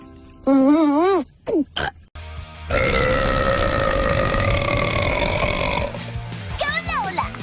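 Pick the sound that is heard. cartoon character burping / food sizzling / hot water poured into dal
cartoon character burping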